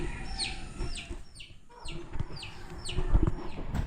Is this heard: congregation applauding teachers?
no